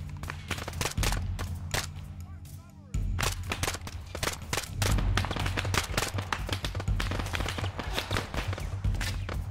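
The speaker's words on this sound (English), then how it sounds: "Oh, we're taking fire from behind us." Gunfire in the Arma 3 video game crackles in dense bursts of rapid shots, loud and close, with a brief lull before the firing resumes heavily over a low rumble.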